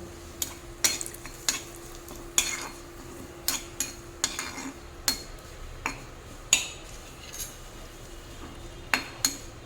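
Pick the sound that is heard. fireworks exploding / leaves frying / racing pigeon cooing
leaves frying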